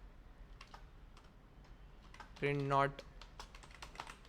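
Code being typed on a computer keyboard, a steady stream of soft, close key clicks under a faint room hum, with a voice speaking briefly in the middle.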